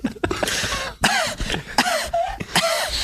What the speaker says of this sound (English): Cough right into the microphone so we know when you're done.